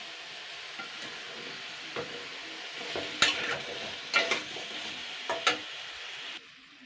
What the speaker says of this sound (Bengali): এবারে আমি আরও দুই মিনিট মতন একটু একটু নাড়াচাড়া করে নেবো